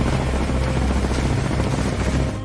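A helicopter flies close and loud on a trip from Berlin toward Serbia, its rotor giving a dense, steady low chop with a constant engine drone throughout, fading slightly at the very end.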